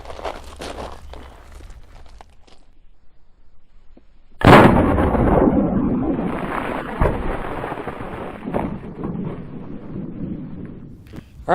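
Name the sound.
gunshot from black powder cap and ball revolver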